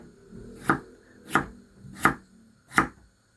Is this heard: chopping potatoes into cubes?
yes